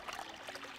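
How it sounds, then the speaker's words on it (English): Water runs from a knobless faucet and fills a basin in the video game Zero Escape: 999, a faint, steady trickle and pour with no talking. "Hey, water's filling up."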